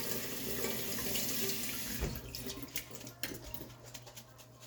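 Tap water gushing into a sink over sprouted lentils in a strainer, a steady hiss at first that softens into quieter trickling, splashing and drips after the flow is cut.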